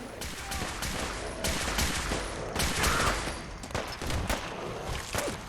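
Rapid bursts of gunfire from the video game Fallout 4: Far Harbor rattle on continuously, loud, dense overlapping shots and echoes filling the scene.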